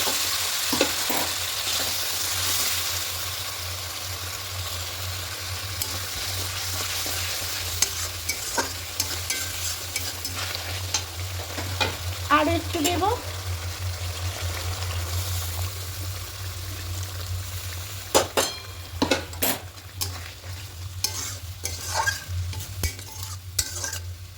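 Fried masala sizzles in a pan while hot water is poured in, then a spatula stirs it with a run of scraping and clinking strokes, loud and close over a constant low hum, with no speech.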